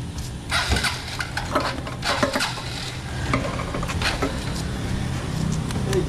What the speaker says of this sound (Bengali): 300 টাকার পেট্রোলটা ভরছি